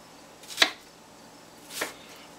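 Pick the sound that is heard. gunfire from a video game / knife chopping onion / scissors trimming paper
knife chopping onion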